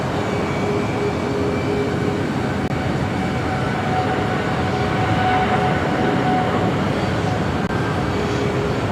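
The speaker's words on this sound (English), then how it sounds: "We got a United Dreamliner. Be rolling down the 25 right." A United Boeing 787 Dreamliner rolls down runway 25 right at Los Angeles International Airport, a steady loud broadband engine roar with faint tonal whine held throughout, no voices over it.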